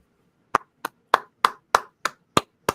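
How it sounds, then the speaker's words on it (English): Eight sharp hand claps from one person, close and evenly spaced over a couple of seconds, each a crisp snap against silence. "That's me clapping."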